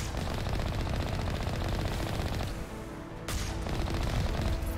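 Steady, rapid automatic gunfire in Mass Effect rattles on without pause as turrets are shot at in a snowy cliffside setting, with a brief dip in intensity midway before resuming loud and dense.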